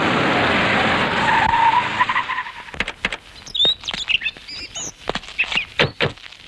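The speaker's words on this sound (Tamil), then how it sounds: "இந்த வண்டியை கொஞ்சம் பிரேக் போட்டு நிறுத்தவா?" A car brakes hard to a stop with a long, loud tyre skid, then the noise drops away, leaving chirping birds and light background noise.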